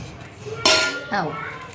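Steel bowls clink together as they are swapped in a kitchen: one sharp metallic knock, then a second lighter clink a moment later, with a brief voice over the end.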